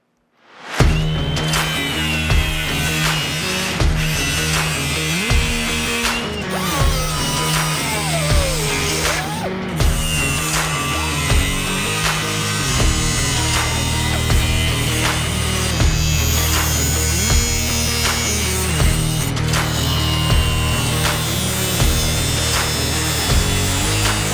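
Metal cutting on the pillars of a 1932 Chevy car body: a steady, loud grinding whine from a power tool runs almost continuously, with brief tonal shifts and small pauses as the blade works through the steel.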